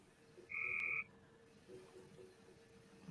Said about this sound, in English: the frogs, the peepers.